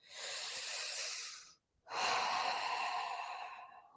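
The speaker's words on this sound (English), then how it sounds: "Let's smile, take a deep breath" A person takes a deep breath, inhaling with a long, close, airy rush, then pausing briefly before a long exhale, heard alone with no talk.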